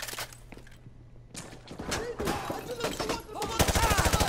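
Gunfire exchange in a Modern Warfare 2 campaign fight, scattered shots at first that build into a fast, loud automatic burst at the end, with voices heard over the shooting.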